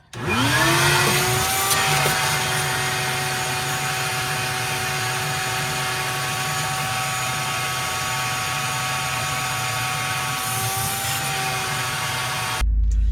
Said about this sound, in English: Next, I'm going to go ahead and vacuum this out.